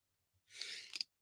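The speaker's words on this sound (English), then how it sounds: "I've been sneezing this morning." A single short, breathy sneeze bursts out near the microphone, preceded by a faint inhale, then quickly fades to silence.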